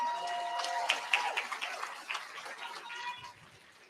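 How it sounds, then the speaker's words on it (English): Audience applause at a conference opening ceremony, a moderate patter of clapping hands with faint voices and whoops mixed in, thinning out toward the end. "So please give her another round of applause."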